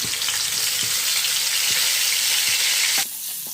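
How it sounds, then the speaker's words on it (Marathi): Garlic and green chilies sizzle loudly in hot oil in a pan, a steady close frying hiss with faint stirring taps. The sizzle drops suddenly to a softer level near the end. "लसूण त्याचबरोबर आता अशा मिरच्या टाकून घेतो"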